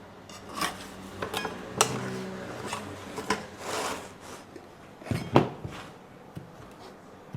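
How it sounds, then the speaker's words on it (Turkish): A freshly baked pizza is sliced for serving, with scattered clinks and scrapes of a metal cutter or knife against a pan, interrupted by short rustling sounds, close and fairly quiet. "Pizzamız pişti hazır. Şimdi dilimleyip servis edeceğiz."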